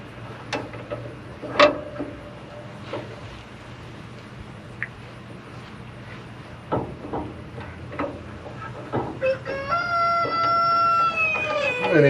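A rooster on a farm crows near the end in a loud, drawn-out call, preceded by scattered clucks and knocks in a quiet outdoor setting.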